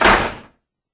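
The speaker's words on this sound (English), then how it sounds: "slammed the door closed to block that horror" A single heavy door slammed shut, one loud close impact that quickly decays into silence within half a second.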